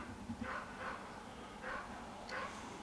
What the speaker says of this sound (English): Crazy dog, barking its head off.